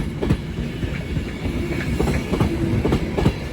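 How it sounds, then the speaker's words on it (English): Two trains at Crewe on the West Coast Main Line rumble and clatter steadily as they pull away together, wheels clicking over the rails, loud and continuous. "two trains leaving at the same time."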